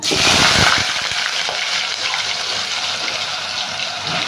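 Sliced onions hitting hot oil already holding mustard seeds, a loud burst of sizzling that then settles into a steady crackling fry for several seconds, with no talk over it.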